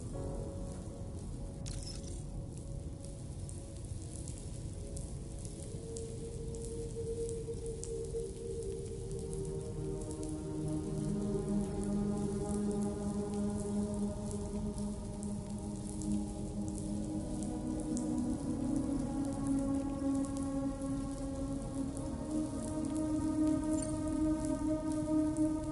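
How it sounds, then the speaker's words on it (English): Steady rain falls in Death Stranding 2, a continuous wash of hiss that swells slightly louder midway, with low sustained tones running beneath it. "Raindrops are falling on my head"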